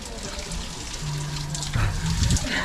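A volcanic water shower runs at the Piedra de Agua mud baths, a steady close hiss of spraying and splashing water with voices talking over it.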